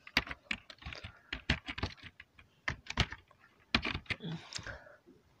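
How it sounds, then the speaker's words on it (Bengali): Rapid typing on a computer keyboard while entering a word into a browser search field, a steady run of close, crisp key clicks in uneven bursts with short pauses between them. "তো এরপর একবার লিখলাম আব্দুর"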